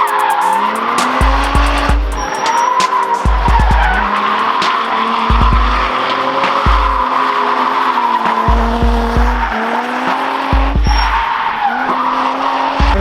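A Pandem-kitted BMW E36 drift car skids with long, loud tire squeals over a revving engine, the screeching sustained and wavering as the car slides close by.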